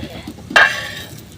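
Batter flatbread turned over in a hot pan gives a brief, sharp sizzle with a light scrape, close and fairly loud, then settles back to a low background hiss.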